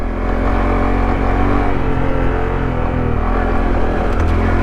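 Honda Trail 125 motorcycle engine steadily droning while riding off road in first gear, a continuous close, loud hum with small shifts in pitch throughout and no voices.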